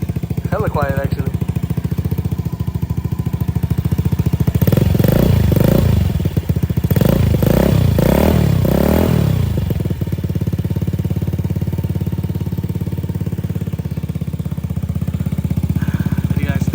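A Honda Ruckus scooter with a Sidewinder exhaust and silencer runs with a close, steady putter, revving up in a few surges midway before settling back to idle, with a voice briefly heard over it.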